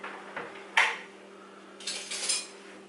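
Metal cutlery clinks and rattles as a regular eating tablespoon is fetched from a drawer, giving a few short sharp clatters close by with no talk.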